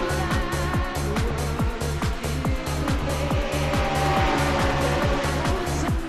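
A field of race cars in a racing game at Baerfield roars off the start together, a loud, dense layered engine drone with rhythmic gear-shift pulses and faint tire noise running steadily throughout.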